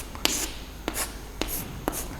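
Chalk or marker strokes on a classroom board, four short broadband scrapes spaced roughly half a second apart, close and fairly quiet against a low room hum, with no talking.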